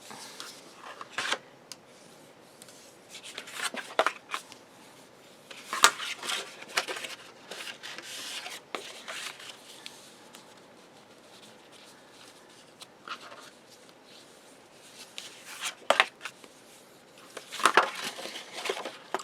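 Paper for a rolling spine craft album being burnished gives soft, scattered rubbing strokes and light taps, faint and close, coming in irregular bursts with quiet gaps between them.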